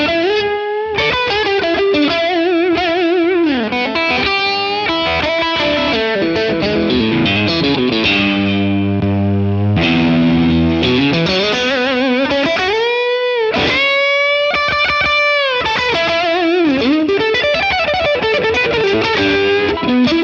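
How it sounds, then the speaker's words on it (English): A Keipro Fabian Ratsak signature electric guitar plays on its neck pickup in coil-tap mode, giving a single-coil character through a driven, effects-laden tone. Loud sustained notes and bends ring continuously with no voices. "the next position is basically the neck pickup in the coil tap mode. So it reacts really like a single coil"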